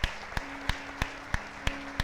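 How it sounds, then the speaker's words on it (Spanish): A congregation claps at a church worship service, sharp hand claps landing roughly every third of a second in a steady rhythm, moderately loud, over a faint sustained organ or keyboard tone, with no talk. "Vamos, un fuerte aplauso a Dios."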